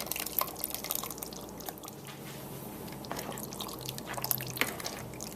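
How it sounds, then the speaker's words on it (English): Thick cheese sauce pours and drips onto cooked penne pasta in a bowl, giving soft wet splats and squishy dribbles close by, steady and quiet with no talking. "I'm adding the cheese sauce"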